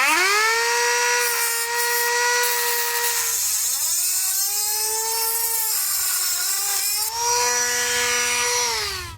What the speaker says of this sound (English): Now I'm going to use a Dremel tool to get this done.